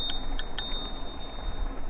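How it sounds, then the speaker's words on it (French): Small bicycle bell on the left brake lever of an Eskute Netuno electric mountain bike, three quick bright rings near the start over a faint background, close by. "On a la petite sonnette"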